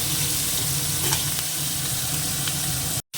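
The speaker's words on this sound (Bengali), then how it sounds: "একটু ভেজে নিই মাছটাকে আগে খুব কড়া ভাজবো না" Fish fries lightly in a pan, a loud, steady close sizzle with faint stirring scrapes, then a brief sudden cutoff before the hiss returns.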